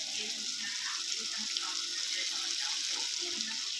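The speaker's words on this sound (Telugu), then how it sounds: "ఆనియన్స్ అంతా ఫ్రై అయిపోయిన తర్వాత స్కిన్ తీసేసిన చామదుంపల్ని యాడ్ చేసుకోవాలి." Skinned taro root pieces tipped into a pan of frying onions for a taro curry, giving a steady close sizzle and hiss that runs evenly through, with faint clatter.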